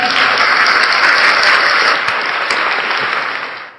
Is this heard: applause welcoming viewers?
yes